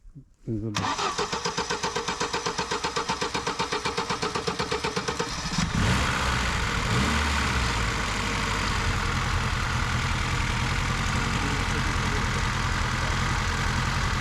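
A Lada Niva running on gas cranks with a rapid starter whir, catches and settles into a steady, loud, close idle that keeps running; people talk nearby over the engine.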